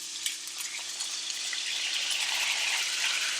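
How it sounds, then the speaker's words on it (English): A honey mixture hits a hot cast iron skillet where salmon has been seared, giving a bright, steady sizzle that swells as it settles into bubbling. "We are going to add our honey mixture into the skillet."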